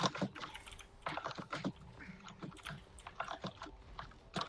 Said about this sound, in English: Someone has a loud keyboard.